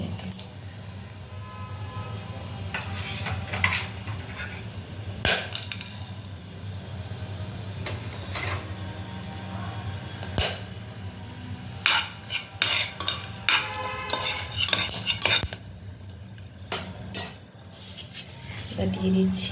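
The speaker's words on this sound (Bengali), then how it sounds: "তেলটা একটু ভালো করে গরম হয়ে যাবে, তারপরে আমি দিয়ে দিচ্ছি এখন গোটা গরম মশলাগুলো সব একে একে" Whole garam masala spices go one by one into hot oil in a pan, sizzling and frying steadily under repeated metal spoon stirs and clinks against the cookware, while a voice talks at times.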